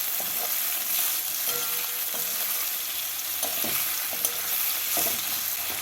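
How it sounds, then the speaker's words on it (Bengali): Chopped onions sizzle and hiss loudly in hot oil while being stirred, a dense continuous frying sound with occasional scrapes, close and without speech. "পেঁয়াজগুলোকে তেলের মধ্যে অল্প নাড়াচাড়া করে নিচ্ছি"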